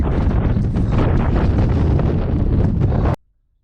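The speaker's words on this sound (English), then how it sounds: "So windy. Too windy to ride." Strong wind roars and buffets close against the microphone, loud and constant, then cuts off abruptly into near silence.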